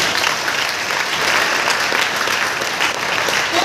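Audience at a business seminar breaks into steady, dense applause, loud and sustained throughout without any talking.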